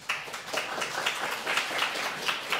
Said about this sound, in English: please stop the applause